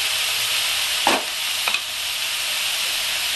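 Salted cabbage with a fish head sizzles in a pan under a constant close frying hiss, while a spatula scrapes through it twice in quick stirring strokes.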